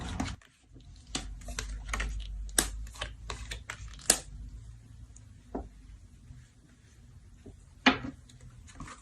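Tarot cards are shuffled by hand close up, with a run of crisp irregular flicks and snaps over a low rumble, some clicks louder and more widely spaced than others.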